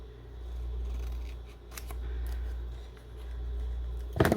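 Scissors cut stickers in a steady series of close, rhythmic snips, with a sharper rustle at the end.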